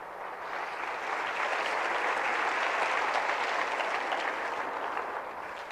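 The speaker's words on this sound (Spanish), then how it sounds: "Denle un aplauso a nuestro Salvador, pues." A church congregation applauding during a sermon, a broad, even wash of clapping from many hands that builds gently, holds steady, and eases off slightly toward the end.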